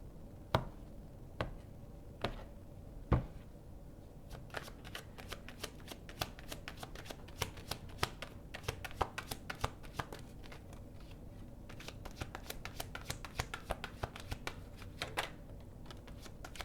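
A deck of oracle cards being shuffled up close, a long run of quiet, rapid papery riffles and flicks with a few sharper taps, continuing steadily with no talking.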